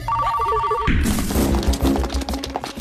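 A telephone rings with a repeated electronic trill, close and clear for about a second, then is cut off by loud, chaotic action-scene noise from a fight scene in a film.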